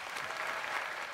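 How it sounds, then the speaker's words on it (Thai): A studio audience at a televised Thai singing competition breaks into brief, steady applause, a dense even clatter of many hands. "ขอเสียงปรบมือครับหมอปุ๊กครับ"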